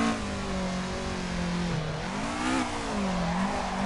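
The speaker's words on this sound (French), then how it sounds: "elle est agréable cette AE86 en drift" A drift-prepped Toyota AE86 with its 4A-GE engine revs continuously while drifting in the video game Assetto Corsa, the steady engine note swelling and dipping with throttle and a faint hint of tire noise.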